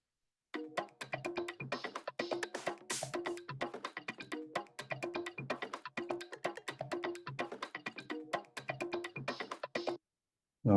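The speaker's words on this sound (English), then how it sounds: "So all percussion together sounds like this." A disco loop of layered percussion: dense, rapid hits with shaker- and tambourine-like bright ticks and clapping accents in a tight, steady groove. It plays alone at moderate level and stops abruptly before the end.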